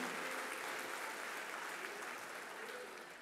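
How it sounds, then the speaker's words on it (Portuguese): Congregation applauding during a church sermon, a steady wash of many hands clapping, fairly faint and continuous throughout. "Dê um aplauso para Jesus agora"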